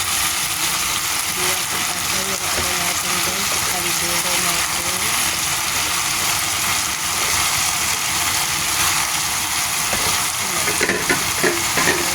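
Vegetables for Filipino pinakbet frying and being stirred in a crowded pan, a continuous loud sizzle with scraping and shuffling of the spoon through the mix, steady throughout.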